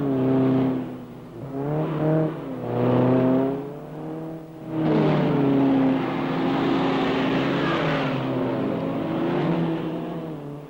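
Classic 1966 cars racing on a dirt autocross track, engines droning and revving in rising and falling waves as they accelerate and pass, fairly loud and sustained, with no speech.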